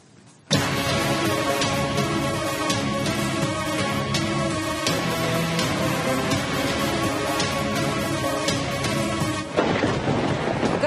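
Heavy rain pours during a thunderstorm in Bengaluru, a loud, dense, unbroken roar of downpour with rumbling thunder that starts abruptly and runs steadily to the end.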